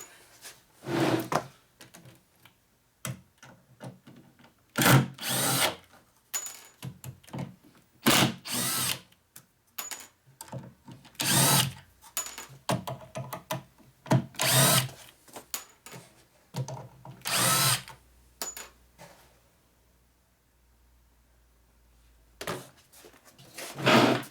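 A power drill backs screws out of a 1946 Harley-Davidson knucklehead motor, loud whirring bursts starting and stopping in an irregular rhythm close by, with quiet gaps between runs.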